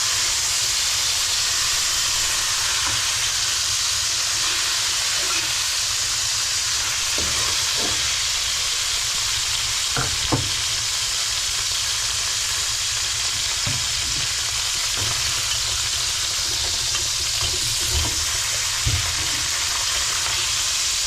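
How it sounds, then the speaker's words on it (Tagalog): A large lobster frying in a wok, a loud, steady close sizzle and hiss running throughout with occasional faint clicks and scrapes from stirring, no voices. "Kaya lalagyan na natin yung lobster."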